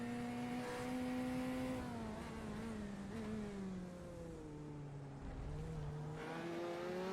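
A Corvette race car in the iRacing sim at Circuito de Navarra sustains a loud, steady engine drone, pitch rising and falling through gear changes and corners, with no talk.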